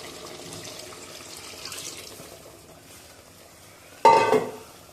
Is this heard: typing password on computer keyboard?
no